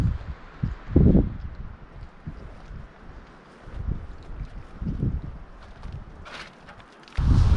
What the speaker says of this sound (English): That's how noisy it is from the wind.